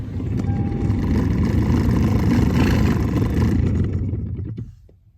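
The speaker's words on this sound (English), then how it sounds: "first I'm about to switch it on and turn the fan on to show you the noise that it's making" A faulty blower fan in a Toyota Sequoia runs with a steady, rough droning whir, holding at a constant level for several seconds before winding down and fading out.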